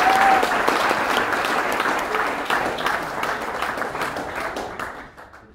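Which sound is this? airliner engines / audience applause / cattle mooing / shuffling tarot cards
audience applause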